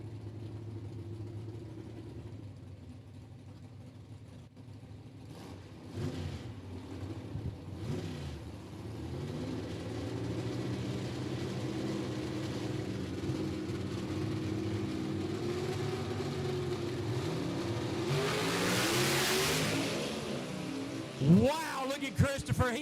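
Drag racing car at Knoxville Dragway during a race, engine rumbling at the line then rising into a loud, building roar as it launches down the strip, with announcer talk over the engine.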